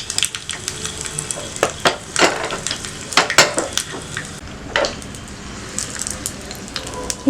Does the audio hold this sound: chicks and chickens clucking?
no